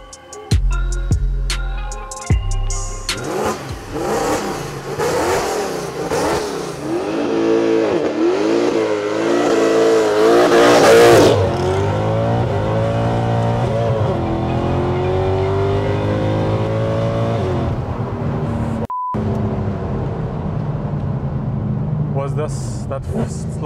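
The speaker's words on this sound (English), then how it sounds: "can you just rev it up for us so we can hear what it sounds like?" A Mercedes-Benz C63 AMG V8 rated at 566 hp revs hard in repeated rising and falling bursts, loud and close, then settles to a steady idle rumble, with people talking around it.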